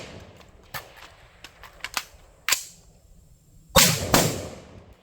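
Sharp rifle shots from a Mk12-style AR fitted with a 20-inch M-LOK upper, with several quieter clicks and clacks before two loud reports spaced closely near the end.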